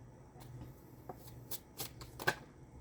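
A Golden Masquerade tarot deck is shuffled by hand in soft, close riffling bursts and flicks, several separate rustles and slaps spread across a few seconds, quiet with no voice.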